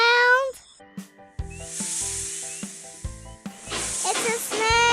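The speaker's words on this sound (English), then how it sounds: "It's a snake." A snake's loud, sustained hiss rises partway through and rolls on steadily, set against bright children's-show music with chiming notes.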